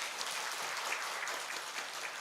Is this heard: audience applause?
yes